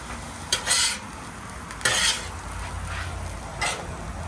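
Jambalaya pasta ingredients stirred in a hot pan, a spoon scraping through a steady sizzle in a few close, brisk bursts with quieter frying in between.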